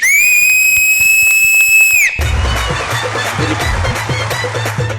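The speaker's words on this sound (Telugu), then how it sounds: "ఫస్ట్ విజిల్ వేసేద్దాం" A loud, sustained shrill whistle blast lasts about two seconds on a TV dance show stage, then cuts off into a noisy crowd clamor with cheering.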